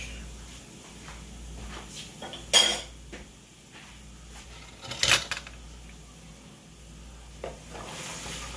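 Onions and garlic are stirred in a hot cooking pot, with faint sizzling beneath scattered scrapes and two sharper clinks of a utensil against the pot.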